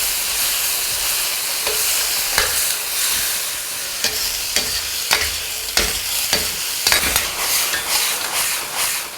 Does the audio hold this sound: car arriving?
no